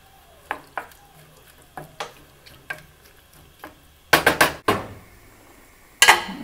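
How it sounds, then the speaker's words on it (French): Vegetables going into a pot of meat and okra broth: scattered light knocks and clinks from a utensil against the pot, then a quick cluster of louder metallic clatters and a final sharp clang, close up, no talking. "Là, je vais rajouter les légumes"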